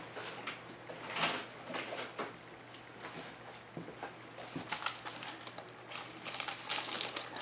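A Mill Hill cross-stitch kit has its packaging opened up close, with plastic crinkling and rustling in irregular bursts, some sharper crackles and soft handling noises, fairly quiet with no talking.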